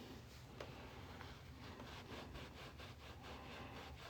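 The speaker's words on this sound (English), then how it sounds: "It's called a deburring tool. Some places call them reamers." A deburring tool, or reamer, scraping around the inside of a coin ring made from a half dollar coin, giving quiet, repeated rasping strokes in an even rhythm, close up with no voices.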